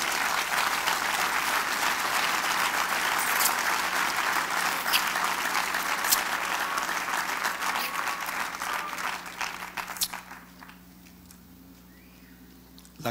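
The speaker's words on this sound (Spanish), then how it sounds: "Denle un aplauso al Señor" A congregation claps during a church service, loud and continuous for about ten seconds, then the applause breaks off suddenly into near quiet with a few scattered claps.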